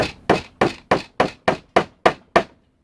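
Nine even, sharp hammer blows drive a wooden peg into a vacuum seeder board, each strike ringing briefly before the next in a steady rhythm, close and loud with no voices.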